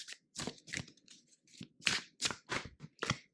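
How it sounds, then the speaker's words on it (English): A chakra card deck is shuffled by hand in a quiet room, giving a series of about nine short, crisp riffling and slapping bursts in an uneven rhythm, close and fairly soft. "I'm just shuffling some cards from this chakra deck"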